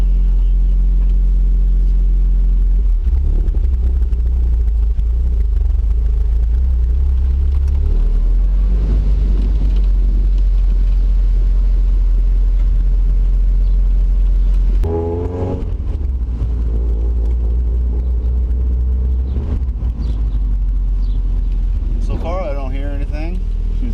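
Mazda Miata with new coilovers driving on a road, a deep constant engine and road rumble throughout with shifts in tone, and people talking over it inside the car.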